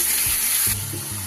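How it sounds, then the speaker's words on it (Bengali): Chopped onions go into a hot pan for a Bengali mutton curry, giving a loud, steady sizzle with a hiss that eases slightly after a moment, no voices. "এবার দিয়ে দেব কেটে রাখা পেঁয়াজ।"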